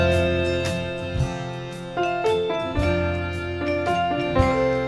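A piano plays a theme from Up along with a backing track, a steady, fairly fast tune of bright ringing notes over sustained chords, close and continuous with no talking.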